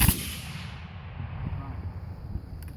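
A Civil War infantry musket volley fired at Gettysburg National Military Park: one loud, sharp crack at the start, then a long reverberant outdoor tail that slowly fades.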